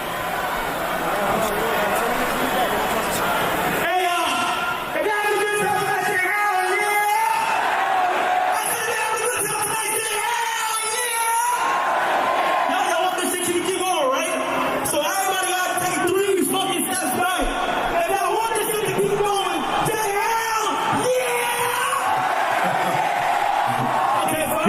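A rapturous concert crowd yelling and cheering, a loud, sustained roar of many voices with chanting swells, heard alongside people talking close by.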